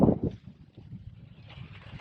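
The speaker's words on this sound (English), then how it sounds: "the wind is now much lighter and the seas are a bit confused" Sailboat at sea in light wind and confused seas, with soft low wind rumble and gusty buffeting against the microphone, plus faint sloshing and creaking.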